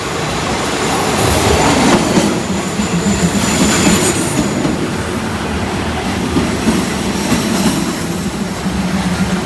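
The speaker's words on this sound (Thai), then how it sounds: "มาแล้วค่ะรถไฟมาแล้วค่ะ" A passenger train rolls into a Thai railway station with a loud, steady rumble of wheels on rails, rhythmic clacking and brief squeals, close by and continuous.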